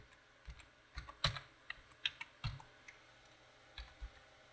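A password typed on a computer keyboard: a quiet, irregular run of separate key clicks and taps, close by, with short pauses between strokes and no voices.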